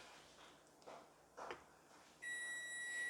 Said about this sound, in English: That buzzer is my oven preheating to 375 degrees Fahrenheit.